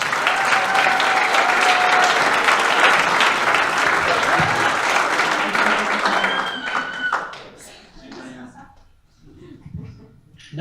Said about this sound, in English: let's give Annie and Jimmy a huge round of applause.